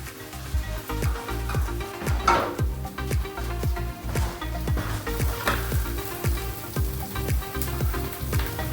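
Vegetables, tofu and cheese sizzle steadily in a hot pan, with repeated stirring scrapes and clicks of a utensil against the pan throughout, close and fairly loud, with no talking.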